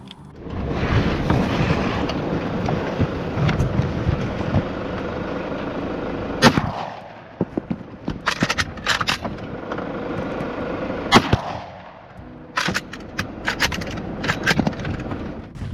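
Gunshots from a five-round gun fired while hunting peacocks, several sharp reports standing out over steady loud broadband rumble, with a few clustered cracks later on and no voices.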